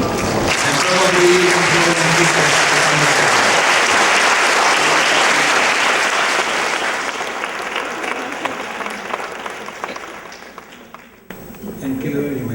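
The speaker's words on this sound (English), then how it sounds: "Graduates, kindly stand up, show your gratitude by giving a big round of applause" Graduates at a commencement ceremony in a large arts center give a big, sustained round of applause that fills the hall. The applause fades out toward the end, and a voice briefly comes in just afterward.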